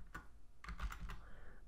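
Keys clatter on a computer keyboard as CMD is typed into the Windows start menu search, a short quick burst of several close, crisp clicks.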